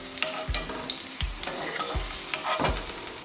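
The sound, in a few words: potatoes frying in oil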